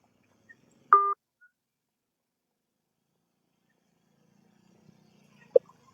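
A telephone number is dialed, with two brief, isolated keypad beeps, the first clear and tonal and the second fainter, separated by several seconds of near silence.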